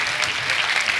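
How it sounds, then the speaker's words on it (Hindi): Audience applause for teachers at a coaching institute in Bihar: a dense, steady burst of many hands clapping together, loud and close, filling the whole short moment with no pause. "तो सबसे पहले ताली शिक्षक लोगों के लिए।"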